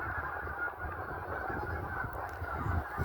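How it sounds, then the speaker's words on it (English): Geese honk by a lake on a calm, cool day, a faint, distant flock calling softly over a steady outdoor hum with no talking. "Might have some geese flying here because there's a truck coming on the other side of the lake here."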